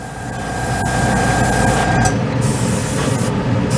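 An airbrush sprays white acrylic paint in a steady, loud airy hiss that carries on for several seconds, with no talk over it.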